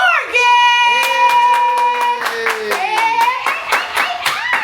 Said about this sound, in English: Clap it up for Morgan!